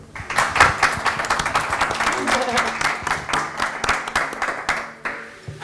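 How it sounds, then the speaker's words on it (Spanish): Applause from an audience welcoming guests at a book talk in a bookshop in Logroño, dense, steady clapping that runs for about five seconds and then thins out toward the end. "y a que les deis un aplauso de bienvenida."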